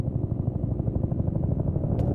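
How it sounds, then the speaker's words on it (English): An evacuation helicopter in the distance: a low, steady rhythmic rotor thump pulsing evenly throughout, alone and moderately quiet, with a brief faint click near the end. "Is that the evac chopper?"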